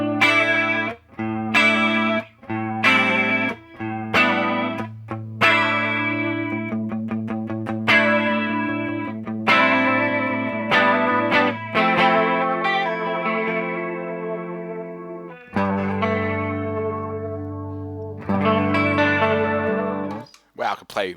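An electric guitar runs through a PRS Wind Through the Trees pedal, giving chorused, shimmering notes and chords. Plucked phrases ring out with swirling modulation and long sustain, fairly loud, and a voice speaks briefly between them.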